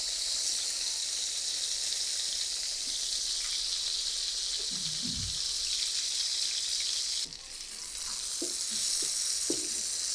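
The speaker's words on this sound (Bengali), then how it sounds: "আমি আলু আর টমেটোটাকে খুব ভালো করে ভেজে নিয়েছি" Potatoes and tomatoes fry in hot oil with a strong, even sizzle that fills the whole stretch, and a few soft scrapes of stirring come in toward the end.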